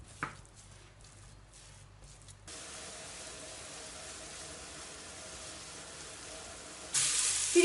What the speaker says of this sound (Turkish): 400 gram dana kıymamızı ısınmış olan tavada suyunu çekene kadar kavuralım